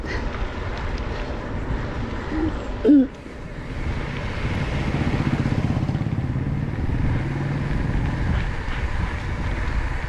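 A motorcycle engine rumbles nearby on a road near the port at Aparri, growing louder as it passes and then easing off, after a brief thump.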